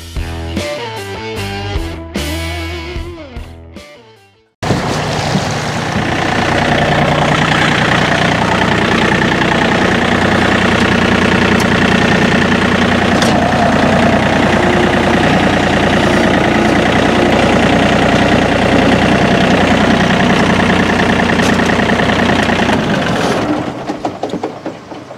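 A boat motor runs steadily and loudly on the Cowlitz River, a continuous droning engine that starts abruptly after a few seconds of music and holds an even tone throughout.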